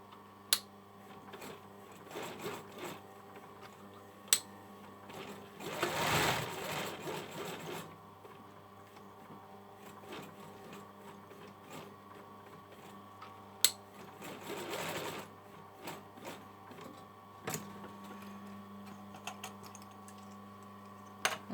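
A sewing machine stitches a small buttonhole for a hoodie cord, making quiet, rapid, mechanical ticking close by, with short bursts of whirring and a few sharp clicks, with no talking.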